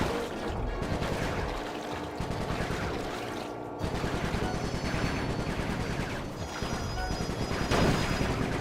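Sustained automatic gunfire from an overheating gun in the game Sly 3: Honor Among Thieves, a steady rattling stream of shots with background game sounds.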